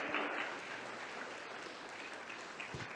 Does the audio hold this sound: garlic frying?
no